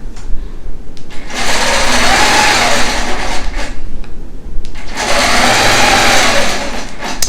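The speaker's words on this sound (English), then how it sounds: "But when I stitch this, I want to stitch all the way off the edge." A long arm quilting machine stitches a facing onto a quilt on a frame, running loud and steady in two long bursts with a short pause between them, its whirring pitch rising and falling as it moves.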